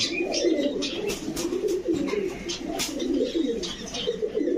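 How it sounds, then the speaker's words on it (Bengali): Pakistani breed pigeons coo in soft, rolling bursts close by, continuous and overlapping, with a few brief sharper clicks and flutters mixed in and no talking. "অরিজিনালি পাকিস্তানি ব্রিডের কবুতর ভাই"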